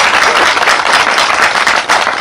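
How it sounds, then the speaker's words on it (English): Steady crowd applause from an audience at an outdoor groundbreaking ceremony, dense broadband clapping that stays loud and even throughout with no voices on top. "give all of you a round of applause"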